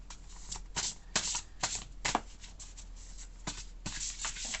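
A deck of oracle cards is shuffled close up, a quick series of papery riffles and slides repeating in uneven bursts against quiet room hiss, with no one speaking.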